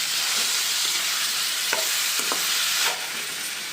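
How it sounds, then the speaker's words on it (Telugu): Wood apple chutney with curry leaves fries in a pan, a continuous bright sizzle broken by a few scraping strokes of a spoon stirring it, with no talking. "వేసుకుని మొత్తం అంతా కూడా ఒకసారి కలుపుకుందాం."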